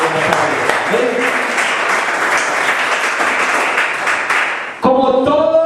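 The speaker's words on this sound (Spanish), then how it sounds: "Den un aplauso al Señor Jesucristo de Nazaret." Church congregation at a Spanish-language sermon bursting into sustained, dense applause for several seconds, fairly close, before it breaks off and a voice speaks.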